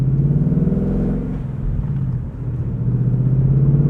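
A 2020 Ford Mustang GT convertible with a six-speed manual burbles at low speed, its V8 giving a deep, loud, steady throbbing rumble that dips slightly midway before swelling again.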